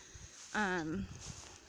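Goat bleat on a spring homestead, a single wavering cry lasting about half a second, close and fairly loud over quiet outdoor ambience.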